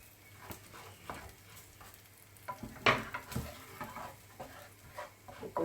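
Cumin seeds sizzle in hot oil in a pan for vegan lentil curry, a steady crackling fry with scattered sharp pops and a louder burst midway, close and moderately quiet.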